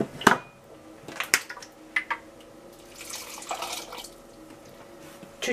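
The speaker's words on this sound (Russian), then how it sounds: "Я сейчас чуть-чуть воды туда зафигачу." Water trickles and drips into a bowl in short irregular bursts, with a few splashes and light clinks nearby.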